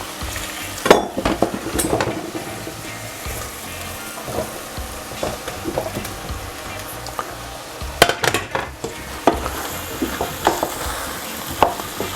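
Pumpkin pieces sizzle and fry in a pan for a curry, with a steady hiss under repeated scraping stirs and clatters of a utensil against the pan, close by and without speech.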